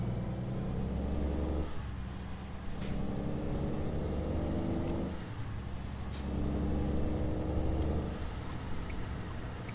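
An International LT truck hauling a heavy load in American Truck Simulator runs its engine brake, a steady low droning rumble with periodic hissing air bursts and rising-falling tones layered on top.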